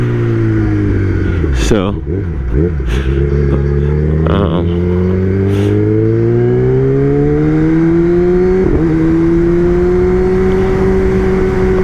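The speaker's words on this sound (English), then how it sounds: "bike sounds good in the crisp air out here" A Kawasaki ZX-10R sport motorcycle engine on a street commute, loud and close, with sharp throttle blips, then steady rising revs through gears; a brief word is spoken over it.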